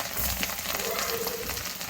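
Garlic sizzles and crackles steadily in hot sesame oil with mustard seeds in a pan, a close, continuous frying hiss with faint spatters.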